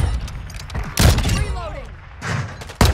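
A sniper rifle shot in Call of Duty: Modern Warfare 2 rings out, followed by further sharp, close reports and mechanical thuds, with a voice talking between them.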